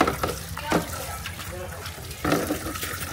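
Tap water runs steadily into a large barrel outdoors, a continuous splashing flow with a few louder bursts, while people talk nearby.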